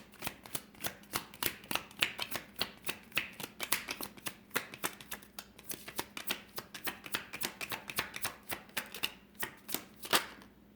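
Tarot cards being shuffled by hand, a quick run of crisp riffling flicks in an irregular, steady rhythm, close and fairly quiet, with no voices.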